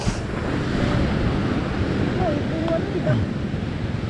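Sea waves and surf wash steadily at close range in a continuous roar mixed with wind noise, rising and easing slightly, while a few faint voices sound briefly underneath.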